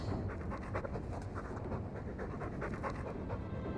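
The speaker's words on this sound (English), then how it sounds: "He's a sweet dog, Hawke" Dog panting in the Dragon Age 2 video game, rapid rhythmic breaths repeating steadily, close and fairly quiet, with no talk over it.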